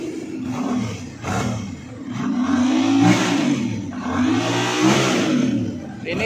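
A Yamaha MT-07 motorcycle engine with fuel-injection components revs repeatedly up and down at close range, loud rising and falling roars in uneven bursts, with no talk over it.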